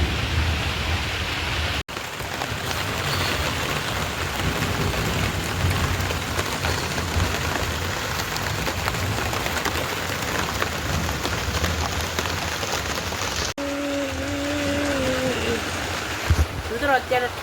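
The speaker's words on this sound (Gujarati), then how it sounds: "વરસાદ તો ચાલુ જ છે" Continuous rain falling in a village, a loud steady wash of drops on surfaces lasting throughout, with a brief gap near the start and faint voices and clatter toward the end.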